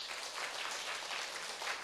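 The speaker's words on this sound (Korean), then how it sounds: "박수 한번 쳐줘봐요." Church congregation applauding after a sermon remark, a dense, even patter of many hands clapping, soft and somewhat distant, continuous and without speech.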